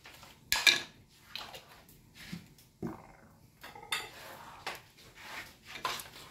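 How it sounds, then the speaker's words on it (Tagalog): A wok being set down with a few metallic clanks and scrapes, followed by soft clinks as cooking oil goes in, in a quiet home kitchen. "ayan na po yung aming kawali at paglalagay na po tayo ng mantika guys"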